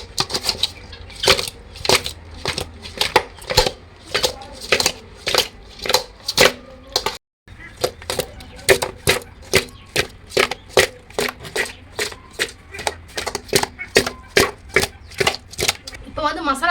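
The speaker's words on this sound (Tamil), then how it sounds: "மறுபடியும் நல்லா மிக்ஸ் பண்ணிக்கலாம்." Jilebi fish being mixed by hand with spice powder, a brisk regular series of wet slaps and clicks in quick repeating bursts, with one brief pause partway through.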